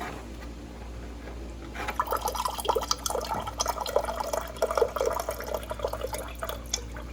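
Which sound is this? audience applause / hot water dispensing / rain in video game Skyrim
hot water dispensing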